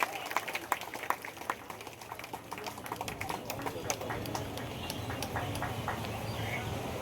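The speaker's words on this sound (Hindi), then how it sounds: "तालियां बजती रहनी चाहिए।" Applause from the crowd at a Bihar Police passing-out ceremony at the police lines in Buxar. Scattered claps open the clip, then the clapping grows into steady sustained applause, moderately loud, with faint background voices.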